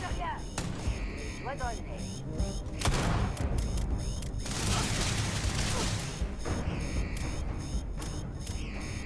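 Pistol gunfire in the Starfield video game, with a burst of sharp shots and clattering impacts over several seconds amid game music and effects, while someone talks over the action.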